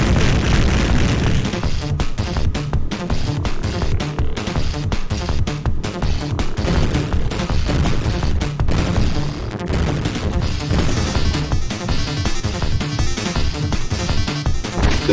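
Dense, continuous gunfire and blasts from the Contra: Hard Corps game fill a loud, busy soundtrack, with rapid shots and explosions layered over driving music throughout.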